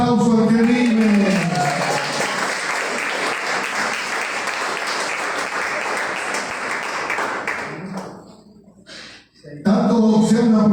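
An audience applauds in a church, a sustained wash of clapping that follows speech and then fades out before a voice resumes.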